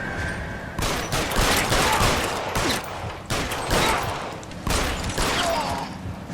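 Gunfire in the L.A. Noire video game: a rapid fusillade of loud, close shots in repeated bursts, with short gaps between volleys and no talk.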